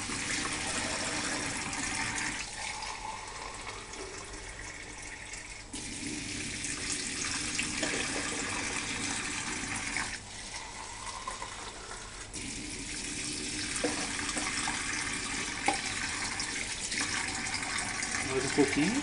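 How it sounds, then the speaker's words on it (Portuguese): Water pours steadily into a coffee maker for instant noodles, a continuous close splashing gush with slight shifts in flow. "E vou colocar mais água agora."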